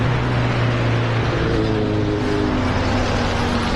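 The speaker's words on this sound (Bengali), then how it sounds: "এই যে এতগুলো বাইক গেল" Several superbikes pass on a road near Kolkata with a loud, steady engine roar and droning, rising revs, close by and continuous with no talk.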